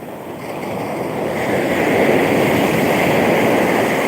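Ocean surf surges up and holds as a loud, steady roar of breaking water, swelling over the first two seconds, with some wind noise and no voices.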